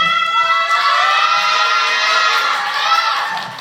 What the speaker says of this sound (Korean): 열렬한 환호로 정말 감사하고요